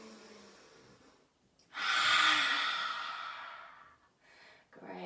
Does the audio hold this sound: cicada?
no